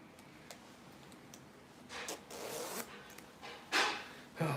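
A pastel zipper on a sewn blazer being worked, with a few soft ticks and rubs first, then quick raspy zipping strokes close to the microphone.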